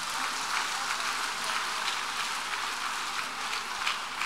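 A church congregation applauds during a sermon, steady dense clapping filling the whole stretch at a fairly even level, sounding like a crowd of many hands rather than a few.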